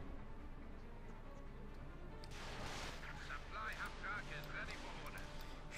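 Stuka dive bomber strikes in Company of Heroes 2, a 1v1 match between OKW and USF forces: a dense rolling barrage of explosions and crackling gunfire swells midway, loud and layered over steady game noise with a commentator talking throughout.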